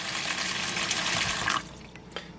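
Tap water runs steadily into a pan as liver is rinsed in a home kitchen, a close, continuous splashing that cuts off abruptly, followed by faint drips and a brief clatter.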